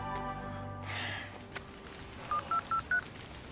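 Four short, evenly spaced keypad tones are heard as a telephone dials the 1823 hotline in Hong Kong, sounding close and clean after a brief stretch of quiet room noise.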